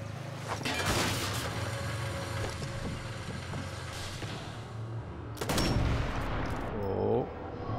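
Sniper Elite 4 gunfire in a forest, with sharp loud shots and bursts early on and a cluster of heavier blasts near the end, over steady game ambience.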